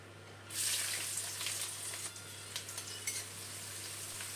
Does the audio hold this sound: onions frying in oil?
yes